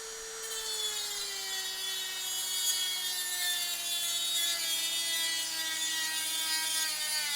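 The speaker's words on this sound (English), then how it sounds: "so let's cut this back piece through." A saw cuts through a wooden back piece for a crossbow, producing a steady close grinding whine with a sustained pitched tone that slowly drops as the blade works through the wood.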